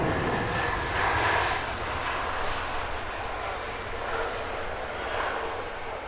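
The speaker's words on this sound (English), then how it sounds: "Still the Qatar 380 waits patiently at the threshold" Jet engines of a Qatar Airways Airbus A380 idling at the southern runway threshold at Heathrow, a steady broadband roar with a faint whine, holding level and fairly distant throughout.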